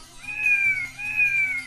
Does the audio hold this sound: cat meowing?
yes